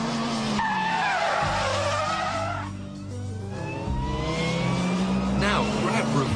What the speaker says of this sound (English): You must build up your speed before flicking the steering wheel and then pulling on the handbrake.